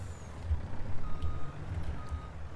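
A truck in a farming video game sounds a steady series of reversing beeps, evenly spaced electronic tones over a low idling engine rumble.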